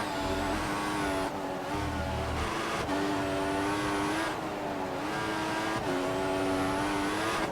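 Formula 1 race cars at the Japanese Grand Prix in F1 2014, engines loud and continuous with rising whines as gears shift up, several passes of revving across the stretch, no talk.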